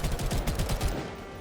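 In the video game Girls Frontline 2, a big explosion bursts out as a rapid string of heavy booming blasts, loud and close, then cuts off abruptly with no talking.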